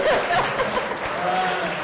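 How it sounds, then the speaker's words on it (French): Steady crowd applause fills a debate audience, a dense continuous wash of clapping with a few light chuckles mixed in, fairly close and even throughout. "Applaudissez pour lui parce qu'il a très bien répondu"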